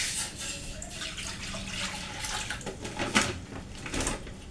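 Heated water poured in a home kitchen, a soft, uneven splashing trickle with a few brighter splashes, fairly quiet and close.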